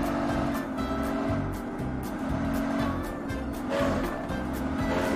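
A Pagani hypercar with an icy glacier skin roars in a racing video game, its engine holding a loud, steady, continuous drone throughout with no pauses.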